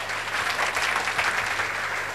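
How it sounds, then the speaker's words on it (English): Steady, dense applause fills the room at a media briefing as a creative director is welcomed, close and continuous for a couple of seconds without speech. "Let's give him a round of applause, please."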